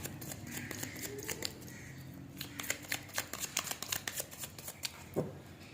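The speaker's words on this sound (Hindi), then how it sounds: "पहले आपके कार्ड्स निकाल लेते हैं कि आपके मन में इस वक्त क्या चल रहा है।" Tarot cards being shuffled before a reading, heard as quiet, close riffling and flicking in uneven bursts that grow denser toward the end, with a soft low background hum.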